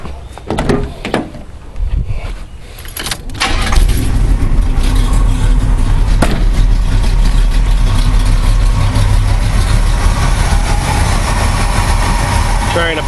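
A 1986 Oldsmobile 442 with Pypes exhaust exiting behind the rear wheels cranks over and fires up, then settles into a loud, steady, rumbling idle close by, with some talk before the start.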